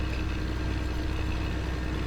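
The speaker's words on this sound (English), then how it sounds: "But I do think the sounds on this tractor are so good" Tractor engine in Farming Simulator 19 running steadily, a continuous low rumbling drone with an even, unchanging level and no voices.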